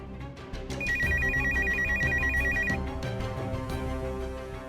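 An electronic telephone ringtone trills in a rapid, repeating warble for about two seconds over soft background music.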